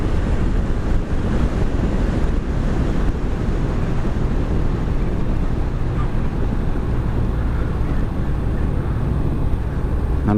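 Sea surf breaking on the shore at Liloan, Southern Leyte: a continuous broadband wash of waves with steady wind buffeting the microphone, loud and close throughout, no talk.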